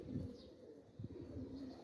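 A female Golombo, a long-necked pigeon breed, gives soft low coos in short pulsing bursts, fairly faint and close, with no one talking.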